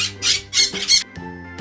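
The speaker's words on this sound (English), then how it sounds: "P for parrot." A parrot squawks in three loud, harsh bursts close by, each about a quarter second long, with a faint sustained tone continuing underneath afterward.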